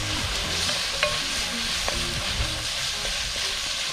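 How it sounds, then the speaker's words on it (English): Chicken pieces sautéing in a pot for a Jamaican one-pot meal, a steady close sizzle with soft stirring scrapes and light clinks throughout. "I'm gonna saute them for 30 seconds."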